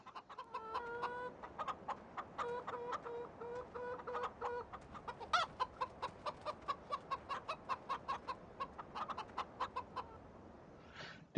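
Farming Simulator 17 chickens cluck in a steady rhythmic series of short calls, close and moderately loud, with a brief squawk midway.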